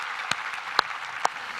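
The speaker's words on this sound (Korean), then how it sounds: "우리 하나님께 감사와 영광의 박수를 드리겠습니다." A church congregation applauding during a Korean Thanksgiving Sunday service; soft, hissing background clapping with a few sharp, distinct claps standing out.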